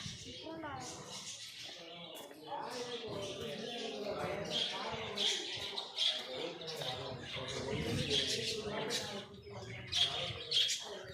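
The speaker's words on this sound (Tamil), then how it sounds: "இதாக எங்கள் பறவை" Pet birds chirp and squawk in repeated bright bursts throughout, close by, mixed with steady background noise and rustling.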